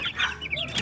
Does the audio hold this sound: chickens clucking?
yes